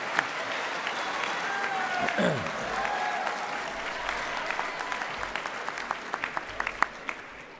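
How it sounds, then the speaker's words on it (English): An audience claps for a band's percussionists, a dense, steady round of applause that goes on throughout, with a brief whistle and some louder individual claps toward the end. "can we give the percussionists a massive round of applause?"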